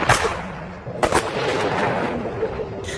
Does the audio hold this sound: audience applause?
no